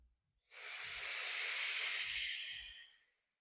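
A group at a self-defense drill breathing out together, one long loud airy exhale that swells and holds for about two and a half seconds before fading, with faint low thumps of movement under it.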